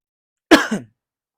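A single brief cough or throat-clear from a slightly ill speaker, close and abrupt, in two quick bursts, surrounded by silence.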